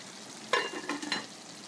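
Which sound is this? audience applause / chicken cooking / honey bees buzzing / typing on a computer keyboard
chicken cooking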